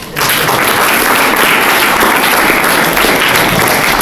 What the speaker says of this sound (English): as everybody gives you a big round of applause